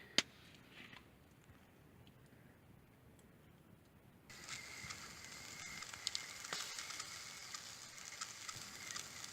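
Sausages slow cook on logs between the coals of an open campfire in the Canadian winter wilderness, a steady faint sizzle and crackle that grows louder partway through, with a few sharp pops and no talking.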